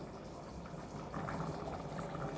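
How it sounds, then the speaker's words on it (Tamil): Rice boiling in a pot on a small stove burner, a steady close bubbling and simmering hiss that runs throughout and swells slightly toward the end, with no talking. "ரைஸ் வேவுது. நம்ம அடுப்பு சின்னது வச்சுருக்கோம்."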